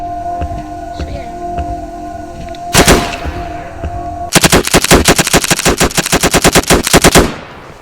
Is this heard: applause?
no